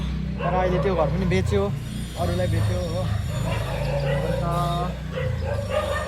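Dogs barking at a house in Nepal, sharp yips and barks popping out repeatedly beneath a man's steady, close-up talk, with a low rumble of traffic behind.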